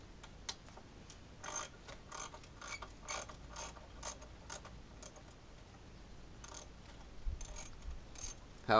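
Socket ratchet wrench clicking in short bursts while working on a lawn and weed trimmer, a faint, close, dry ratcheting with repeated pawl ticks separated by brief pauses, no voices.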